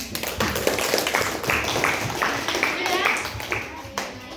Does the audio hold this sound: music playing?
no